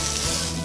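Meat sears in a hot pan with a steady, close hiss of sizzling, heard alone for a brief moment.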